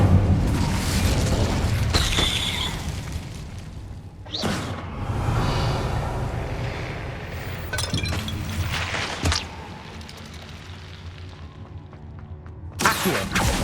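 Fire spells cast in the Hogwarts Legacy video game: loud whooshing, crackling bursts at irregular intervals over a dense game soundscape, with a sharp impact near the end.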